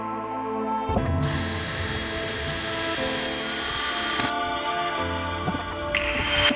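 A loud, steady high-pitched whine of a power tool, likely a drill or rivet tool, runs for about three and a half seconds while a lock piece is riveted onto a van, then tapers into quieter bursts with some clicks.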